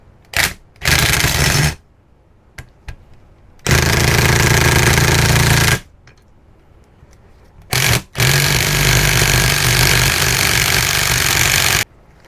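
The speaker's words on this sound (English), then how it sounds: "So I'm going to try and remove this with the impact wrench" An impact wrench hammers at a brake caliper bolt on a C3 Corvette, firing in several loud, close bursts of rattling impacts, one short and two longer runs of a couple of seconds or more, separated by quiet pauses.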